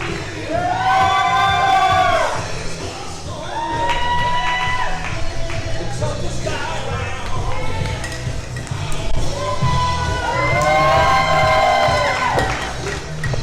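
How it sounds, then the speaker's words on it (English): Loud arena crowd at a strongman event, a dense roar of cheering and shouting voices that swells in waves, peaking near the start and again toward the end. "Listen to this crowd."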